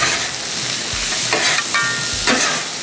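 Cabbage stir fry sizzling steadily in a hot pan, with a few scraping stirs of a utensil breaking through the constant frying hiss.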